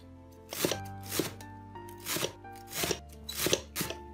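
Knife chopping Chinese chives on a cutting board, a series of about seven crisp, evenly spaced chops, close and clear with no talking.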